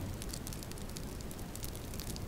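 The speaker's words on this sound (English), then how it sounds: "it's going to burn every little bit of small amount of bark that I did have. And you could hear it crackling" Tinder and a small amount of bark burn in a close, quiet fire, with faint scattered crackles and pops over a low steady hiss.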